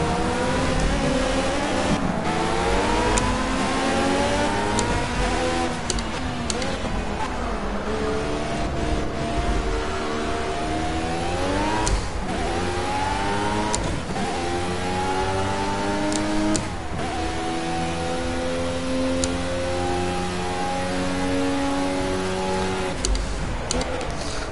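A race car engine in Project CARS roars and revs continuously, with repeated rising and falling pitch sweeps through gear changes, loud and steady throughout, with a voice talking over it.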